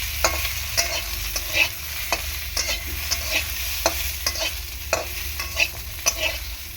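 Eggplant frying with salt in a pan, a soft continuous sizzle broken by regular clinks and scrapes of a spatula stirring, close up and fairly quiet, with no talking.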